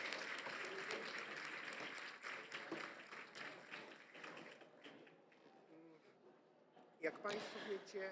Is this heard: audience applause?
yes